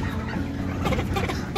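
A rooster and three hens just released on a small Punjabi farm cluck and chatter close by, a busy overlapping run of throaty calls with no speech.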